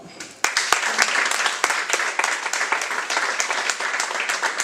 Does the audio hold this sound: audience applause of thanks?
yes